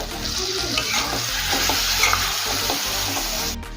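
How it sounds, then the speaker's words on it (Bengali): Spice paste cooking with a little water in a pan for aloo dum, with a close, steady bubbling sizzle and stirring scrapes over a low background hum. "আর অল্প পরিমাণে জল দিয়ে মশলা কষিয়ে নেব।"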